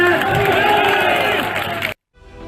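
A rally crowd at an MP Congress event with Jitu Patwari breaks into loud, sustained clapping and cheering for about two seconds, then cuts off abruptly to near silence.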